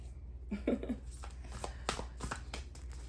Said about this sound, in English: I have to shuffle this chakra deck